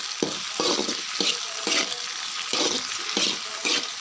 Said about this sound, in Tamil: இது கொஞ்சம் அப்படியே ஃப்ரை ஆகட்டும்.